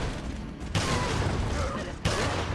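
Gunfire in the Resident Evil 4 video game, with the Handcannon in use, comes as two sharp, loud blasts about a second apart, each followed by a dense rumbling tail, with game noise throughout.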